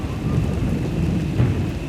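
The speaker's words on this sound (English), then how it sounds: "Hard to track them through the storm." Steady rain pours through a thunderstorm in the Star Wars: The Old Republic game, with low rumbling thunder rolling underneath and a brief heavier swell near the end, loud and continuous with no voices.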